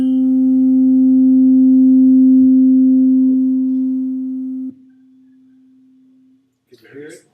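Two slightly detuned pure tones near 260 Hz sound together loud and steady, swelling and fading in one slow beating cycle, then cut to a softer single tone before a brief voice at the end.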